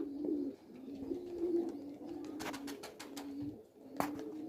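Pigeons coo in repeated low, throaty phrases at close range, joined by brief sharper bird calls and a couple of wing-flap bursts near the end, with no talk.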